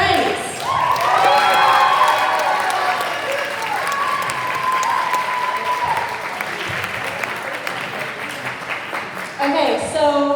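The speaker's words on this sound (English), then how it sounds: "let's give a big round of applause to Mrs. Price" Audience applause and cheering at a fine arts retreat for Mrs. Price, loud and sustained for most of the span with some shouts, then fading and tailing off near the end.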